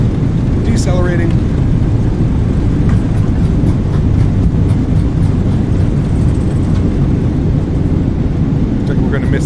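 An Airbus A320 deploys its thrust reversers while decelerating down a runway in Microsoft Flight Simulator, giving a loud, sustained engine roar that fills the whole stretch with a broad rumble and a brief higher whine near the start.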